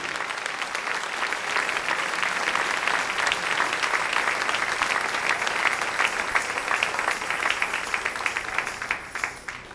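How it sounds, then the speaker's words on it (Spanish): A church congregation applauds steadily for about ten seconds, a dense, even wash of clapping with no voices standing out. "Dale ese aplauso al Rey."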